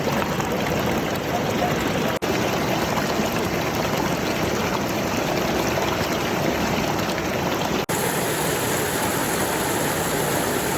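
Rushing water at Donut Falls pours steadily as a dense, continuous roar with no pauses, close and loud throughout.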